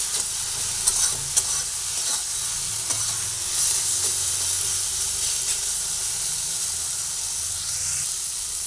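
A mashed pumpkin mixture stirred in a hot pan as its moisture cooks off: a steady, loud hissing sizzle with soft stirring scrapes throughout, with no talking.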